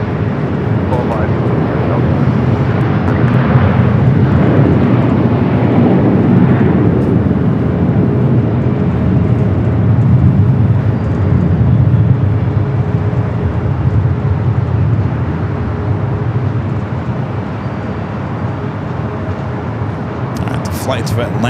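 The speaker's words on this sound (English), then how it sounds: "the 757 flight taking off there on the south" A Boeing 757 takes off from the south runway at LAX: a broad, steady jet roar holds for about twenty seconds and eases slightly toward the end, with a voice faintly under the noise.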